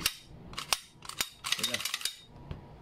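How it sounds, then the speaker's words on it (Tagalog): Steel slide of an Umarex Glock 17 gas blowback airsoft pistol racked against a stiff recoil spring, giving a few sharp metallic clacks and ratcheting clicks close up, fairly quiet with no talking. "Tapos yun nga, tunog na bakal. Kaya pag to, kinasa mo, kala mo, kumakasa ka talaga ng tunay na baril."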